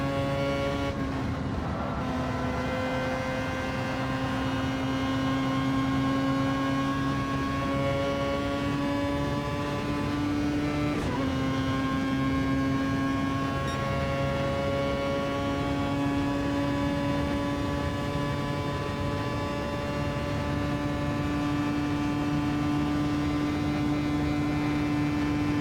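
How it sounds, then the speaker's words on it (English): A race car engine heard onboard in Gran Turismo 7, a steady high-pitched drone at near-constant revs with one brief pitch dip as a gear changes, loud and continuous for the whole stretch. "It sounds like the good old Formula 1 engines"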